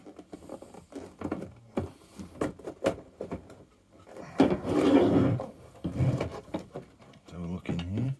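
Back screws being undone on an old General Electric G817 radio: scraping, rubbing and tapping handling sounds with a gritty, rasping stretch near the middle and scattered clicks, close by and without talking.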